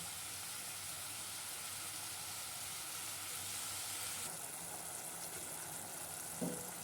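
Chicken pieces sizzle in a hot pan as part of making kabsa. The frying hiss is steady and continuous, with a brief light clink near the end.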